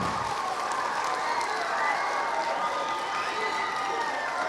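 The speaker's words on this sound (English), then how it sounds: "can we have one final big round of applause for these amazing" Audience at a junior school assembly applauding student public-speaking finalists, a steady dense wash of clapping with some cheering and children's voices throughout, loud and continuous.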